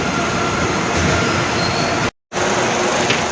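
Railway wagons on the tracks during loading give a loud, continuous rail rumble and grinding noise, broken once by a short moment of silence before resuming.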